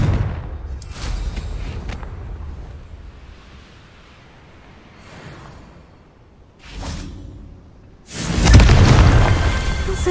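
Confringo explosive spell blasts in the Hogwarts Legacy video game, with whooshing bursts building to a loud, booming explosion near the end, no talk.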